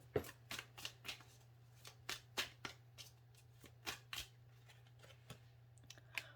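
Tarot cards are shuffled by hand in quick, crisp riffles and taps, with about a dozen sharp bursts over a faint steady hum. Close and quiet, with no talking.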